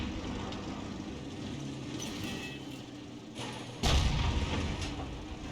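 Tank gunfire in a World of Tanks-style battle: a steady low rumble of engines and tracks, then one heavy cannon boom partway through, loud and close.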